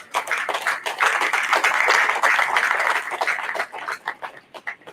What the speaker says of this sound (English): Let's recognize all these people and institutions with a round of applause.